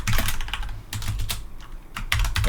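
Rapid, uneven bursts of keystrokes on a computer keyboard, loud and close, with short pauses between runs of typing and no talking.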